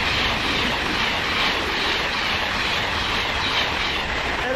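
A pair of coupled Super Voyager diesel multiple units passes at speed through Kings Langley station on the line to London Euston, making a loud, continuous roar with rushing wind and rail noise throughout.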